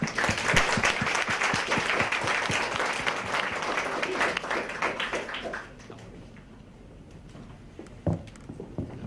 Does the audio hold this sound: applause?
yes